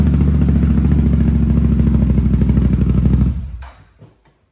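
A Gen 2 CFMOTO ZFORCE 950 Sport UTV with an aftermarket exhaust idles in a deep, loud, steady burble up close, then shuts off and falls quiet after about three seconds.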